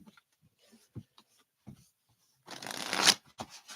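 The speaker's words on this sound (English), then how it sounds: "Let's get some shuffles on your tarot deck." Tarot card deck being shuffled in a quick burst of riffling, preceded by a few soft handling taps and brushes, fairly close and quiet with no talking.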